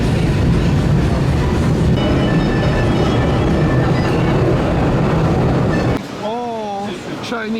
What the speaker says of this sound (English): Proceed to the Victoria Peak tram. And here comes the tram.